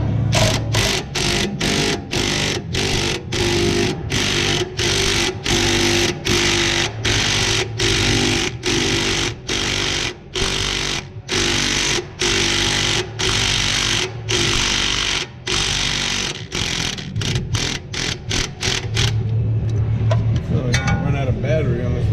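A cordless impact wrench torques down a bolt in rapid, loud hammering bursts that start and stop again and again for about twenty seconds before trailing off.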